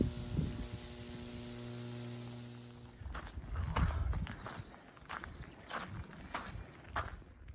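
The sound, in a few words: humming overhead power lines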